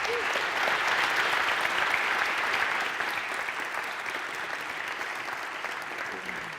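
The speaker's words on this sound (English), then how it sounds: "give a big applause to the panelists" An audience at a mobility conference applauds panelists at the close of a discussion, a dense, even wash of clapping that stays loud and steady, easing only slightly toward the end.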